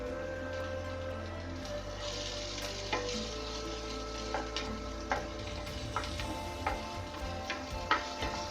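Chopped onion and green chilli fry in a pan for paneer veg spring roll filling, a steady close sizzle broken by occasional sharp clicks of stirring.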